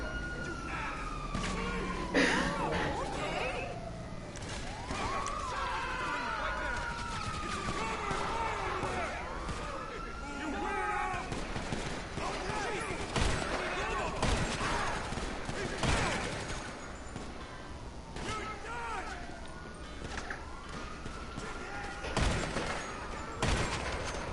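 Gunfire in GTA 5 crackles in repeated bursts and scattered shots, mixed with sirens and chaotic game noise, while a voice talks over the action throughout.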